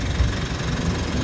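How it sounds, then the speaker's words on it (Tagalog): A diesel car engine idles after starting, just after its EGR valve and intake manifold were cleaned of carbon, with a steady low rumble and slight knocking chatter, close by and unbroken. "ayos na, napaganda ng ng tunog ng makina"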